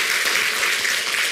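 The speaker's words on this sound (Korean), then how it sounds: "우리 박수 한번 쳐줍시다" A church congregation claps for a missionary couple who funded a well, a brief, dense burst of applause from many hands filling the room at even strength.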